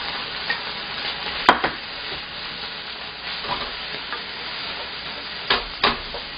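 Shiitake, bamboo shoots and button mushrooms are stir-fried in a wok for a Chinese lazi chicken dish, giving a steady loud sizzle broken by a few sharp scrapes and clanks of the spatula, with no voices.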